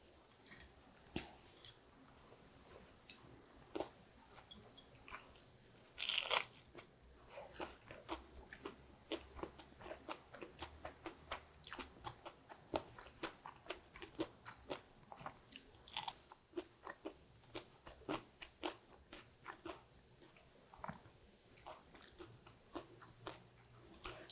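Someone eats a crunchy stir-fried napa cabbage dish with tofu, close to the microphone. Steady crisp bites and chewing crunches repeat throughout, with occasional louder snaps and no talking.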